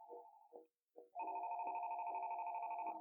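Telephone ringing in the Five Nights at Freddy's Rewritten 87 video game, a faint, sustained electronic ring tone that starts after a few short broken tones and holds steady to the end.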